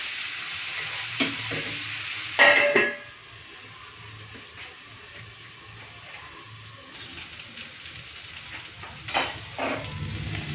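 Potatoes frying in oil with a little salt and turmeric, stirred in the pan: a steady close sizzle with scraping stirs at intervals and a louder clatter near the start, no talking.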